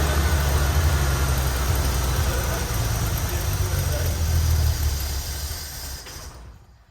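An old Eagle car engine running, a loud, steady low rumble up close that fades away over the last second or so.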